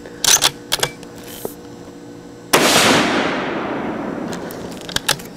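A Savage 110 High Country rifle fires a single loud shot downrange, with a sharp crack followed by a long, fading outdoor echo. Faint clicks come before the shot.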